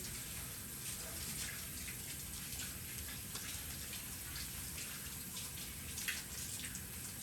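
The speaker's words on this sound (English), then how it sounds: "I'm gonna wash my hands here really quickly." Hands are rinsed under a running kitchen tap during sourdough making, a steady close wash of water with faint splashing throughout and nobody speaking.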